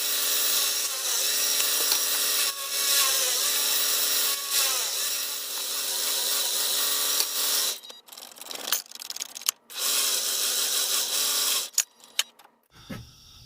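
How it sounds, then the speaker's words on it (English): A power drill grinds steadily into a lantern clamped in a vise, a continuous high whir broken by short pauses and clattering handling noises near the end. "Hopefully I can drill down a little deeper."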